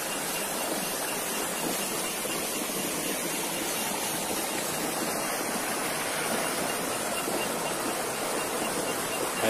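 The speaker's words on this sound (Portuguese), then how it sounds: "Rio do Timbó. Faz um barulhão danado, mas tá. Cachoeirinha pequenininha." Small waterfall on the Timbó river, a loud, constant rushing hiss of falling water heard up close, steady and alone.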